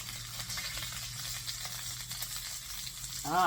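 Lamb chops sizzling steadily in a pan on an old wood cookstove, a close, even crackling hiss with no talking, and a brief metallic scrape at the very end.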